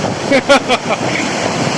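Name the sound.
water waves hitting feet on flooded beach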